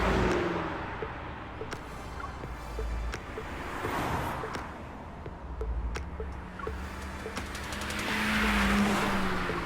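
An illegally modified street-racing car accelerates at night. The engine note rises gradually, moderately distant, under a steady wash of broadband noise that resembles wind or surf.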